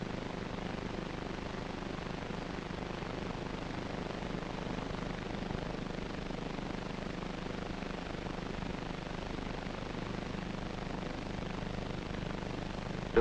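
A helicopter takes off in 1952 archival film footage, heard as a steady, continuous rotor and engine drone that holds at an even loudness throughout with no talk.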